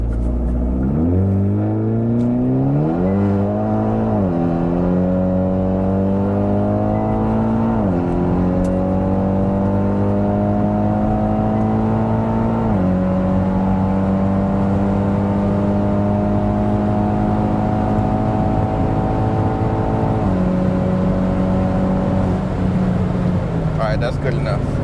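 A tuned Hyundai Veloster N with a DCT gearbox and an Elantra N turbo accelerates hard, engine pitch climbing steadily through several gear shifts, loud and continuous from inside the car.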